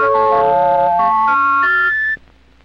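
Electronic tones from a Mauch Stereotoner reading machine spell the letter Y as a shifting sequence of pure pitches that step upward over about two seconds, then stop abruptly, leaving quiet.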